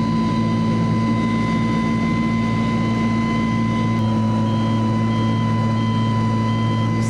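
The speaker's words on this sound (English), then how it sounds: "So this is the first time I've used the motor to motor all the way back past from Clifton." FES electric motor on a paramotor running steadily in flight, a loud continuous whine with several sustained tones over constant wind rush, unchanging throughout.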